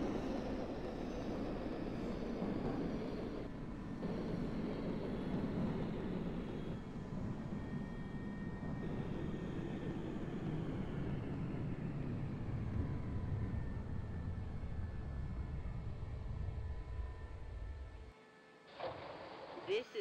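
An R68 subway train on the Q Express runs in the OpenBVE simulator with a loud, steady rumble and rising whine of motors, ending in a sudden drop near the close, with an announcement voice over it.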